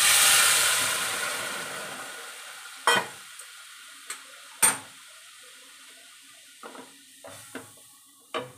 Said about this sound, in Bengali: ফোড়ন দিয়ে ডালটা ঢেলে দেবো